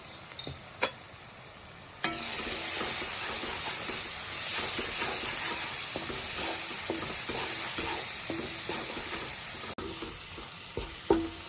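A spoon scrapes and stirs coriander powder and garam masala through a sizzling pan in steady strokes, with a continuous frying hiss throughout and a few sharp clinks near the start.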